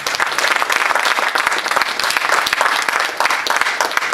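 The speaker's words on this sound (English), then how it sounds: "Give them a round of applause." An audience at an inaugural community event breaks into a loud, sustained round of applause. Dense clapping from many hands holds steady throughout, with no one speaking over it.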